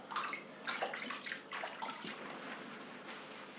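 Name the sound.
washing hair with water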